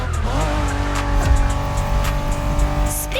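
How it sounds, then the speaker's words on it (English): A Honda NSX, a 1990s sports car, driven hard in The Crew Motorfest, its engine droning loudly and steadily with a rising rev and tire squeal, alone and close throughout. "Are you familiar with the Honda you're driving? The NSX isn't your regular street car."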